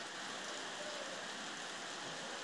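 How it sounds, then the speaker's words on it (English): Heavy rain pours onto a metal roof during a morning storm in Uruguay, a dense, steady hiss and patter that stays loud and unbroken throughout. "We can hear it bouncing off of this metal roof and all"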